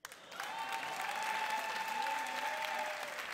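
Studio audience applause on a Turkish TV entertainment show, a dense sustained wash of clapping that starts abruptly and holds steady, with a faint tonal music line running beneath it.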